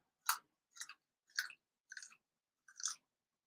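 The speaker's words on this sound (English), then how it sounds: "Just munching on carrots." Raw carrots being munched close to the microphone, five separate crunchy bites in an uneven rhythm with short silences between them and no talk.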